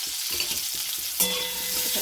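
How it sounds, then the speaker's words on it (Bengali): Potatoes tossed into white oil already tempered with black cumin and green chillies, giving a steady close sizzle with light stirring scrapes and a brighter burst of frying about halfway through; no talking. "এখানে ভেজে নিই আলুটা"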